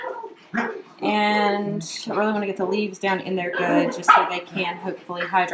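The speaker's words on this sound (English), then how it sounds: "My dogs are playing in here, and they're quite loud." Several dogs playing indoors bark and yip loudly and repeatedly beneath a woman's close, steady talking.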